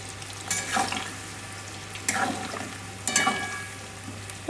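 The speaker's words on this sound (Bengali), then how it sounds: "এখানে এখন আমি ডিপ ফ্রাই করে নেব" Spiced chicken pieces deep frying in hot oil for chilli chicken give a steady, fairly quiet sizzle, with three louder bursts of crackle spaced about a second apart.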